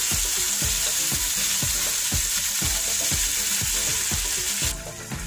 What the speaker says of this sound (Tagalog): Haluin lang natin para yung lahat ng balanse.